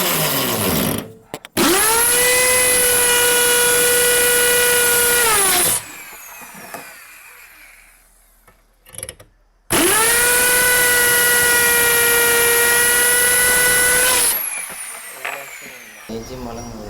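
A power drill fitted with a step drill bit whines at steady high speed while trying to bore into a steel sheet, two long loud bursts separated by a quiet pause, with a few short clicks and handling noises.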